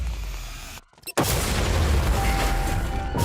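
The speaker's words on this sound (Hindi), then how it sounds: "इससे उड़ा देते हैं" A deep, roaring explosion set off during a police chase with around a hundred cops, bursting in after a brief sudden drop-out and holding as a dense, loud rumble of debris to the end.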